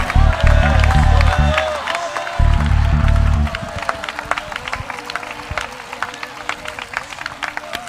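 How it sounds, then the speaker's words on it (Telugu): A church congregation clapping and shouting praise: loud rhythmic handclaps and excited cries from a crowd, first under booming music, then continuing as sharp, scattered claps with voices mixed in. "సంతోషభరితమైన స్తుతి కేకలతో చప్పట్లు కొడదాం"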